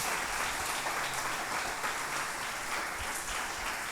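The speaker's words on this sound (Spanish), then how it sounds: "Den un aplauso al Señor" A church congregation applauds the Lord for a steady four seconds, a dense, even wash of clapping from many hands with no voices over it.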